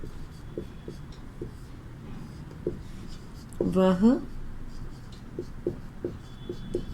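Soft, scratchy strokes of writing on a board or paper during a Hindi class, faint and rhythmic beneath a teacher speaking steadily.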